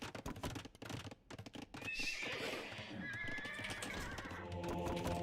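Horse neighs and whinnies from the Age of Empires II strategy game, a drawn-out cry over a busy bed of game effects and clatter, loud and close.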